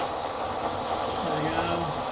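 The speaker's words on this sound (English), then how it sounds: "Again with a squirt of WD-40 juice." WD-40 spray squirted onto a low-profile rotary table, a steady close hiss lasting the whole moment, with a voice faintly beneath it.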